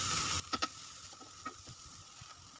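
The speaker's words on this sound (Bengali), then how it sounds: "সবজিগুলো নেড়ে চেড়ে আর 2 মিনিটের মতো ভেজে নিলাম।" Vegetables sizzle softly in a pan while a spoon stirs them, giving a few quick scraping knocks over a faint, low frying hiss.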